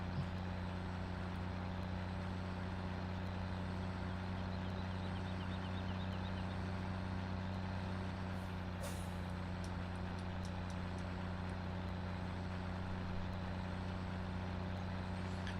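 A truck in Farming Simulator 17 drives along with a steady, droning engine hum and low tones, with a brief hiss or air-brake burst midway and faint clicks afterward, no voices.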